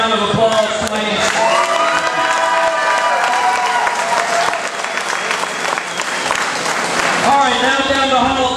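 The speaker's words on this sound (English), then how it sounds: "Can we give them a round of applause, please?" A wrestling show audience at a Hall of Fame ceremony breaks into loud sustained applause and cheering, with shouting and voices carrying over the clapping throughout.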